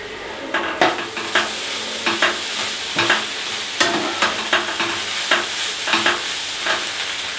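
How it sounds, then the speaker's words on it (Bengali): Bombay duck (loitta) fish dry-fries in a pan until crumbly, with a steady sizzle and a regular series of sharp scraping strokes as it is stirred. "লোটে মাছটা যতক্ষণ না একদম ঝুরঝুরে হয়ে যায় ততক্ষণ পর্যন্ত ভাজা ভাজা করতে থাকবো।"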